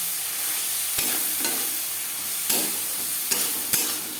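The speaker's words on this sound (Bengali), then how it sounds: "পেঁয়াজ রসুনের সাথে মশলা বেশ ভালো করে মিক্স করে নেব" Spices are stirred with onion and garlic in a hot pan, producing a steady sizzle broken by a few sharp scrapes and taps of a spatula, close and alone with no voices.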